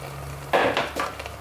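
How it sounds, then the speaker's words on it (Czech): A lid is set onto a pot of cabbage simmering with peppercorns for pork with cabbage, giving a near metallic clatter with a second lighter knock, over a low stove hum. "Přiklopím a nechám to dusit do změknutí."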